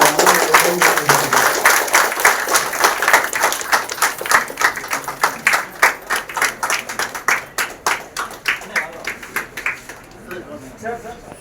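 Applause from an audience at a film hero and heroine introduction event, loud clapping that builds into rhythmic, synchronized claps before thinning out toward the end.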